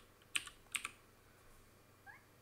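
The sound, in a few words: typing on a computer keyboard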